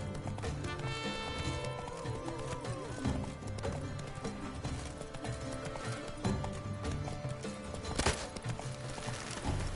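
Roach, a horse in The Witcher 3, trots with quick repeated hoof clip-clops through a busy game soundscape, layered under music and ambient effects with an occasional whinny.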